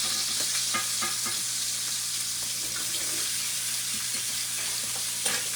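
Steady hissing sizzle of steak searing in a pan on a gas stove, a dense, even crackle close to the microphone with small pops, no voices.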